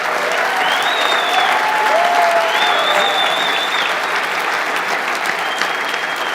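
A crowd at a Kansas Republican governor primary debate in Wichita keeps clapping for the candidates, a continuous loud wash of applause with a few whistle-like tones rising above it.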